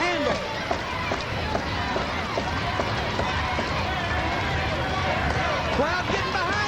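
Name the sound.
wrestling crowd cheering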